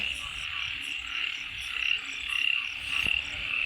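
Frogs croak in a dense, continuous chorus at night during a rainy-season frog-spotting outing, with shrill pulsing calls swelling and fading and a few nearer croaks, with no talking.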